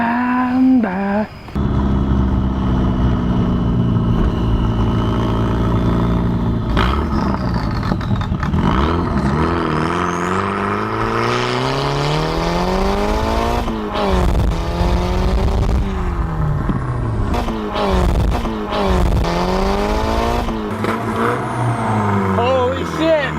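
Mazda Miata fitted with a cheap homemade turbo kit, engine loud and close, revving up and down repeatedly with rising and falling pitch sweeps, voices talking over it.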